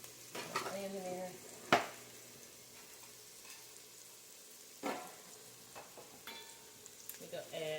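Onion frying in a pot for a chickpea stew, with a quiet, steady sizzle broken by a few close clanks and scrapes of a utensil against the pot.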